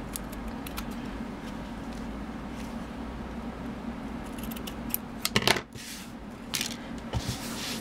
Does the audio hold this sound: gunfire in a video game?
no